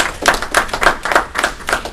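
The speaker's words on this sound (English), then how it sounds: "Let's give Miss Gonzalez, Twila Gonzalez, a round of applause for being here" Applause at a North Miami city council meeting: a steady patter of many hands clapping together in a hall, moderately loud and sustained, with no voices over it.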